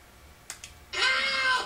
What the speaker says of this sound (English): I hear the cat meowing.